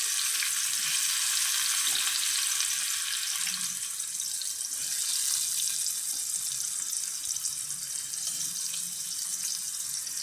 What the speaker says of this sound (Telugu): చూడండి, ఆయిల్ వేడైంది కదా, కొంచెం పచ్చిమిరపకాయలు కట్ చేసుకుని వేసేసుకుంటున్నాను.